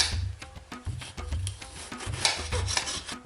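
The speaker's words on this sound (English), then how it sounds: "Cut the ends off, and then we're going to cut them in about centimetre slices." A knife cuts an aubergine with its ends trimmed into centimetre-thick slices, giving a steady series of close, rasping cuts with soft knocks on the board, with no talking.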